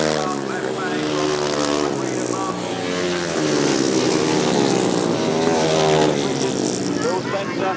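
Grasstrack racing motorcycles at the 2000 British Grasstrack Championships going flat out round a turn, a loud, dense snarl of engines rising and falling in pitch as the bikes pass, under continuous commentary.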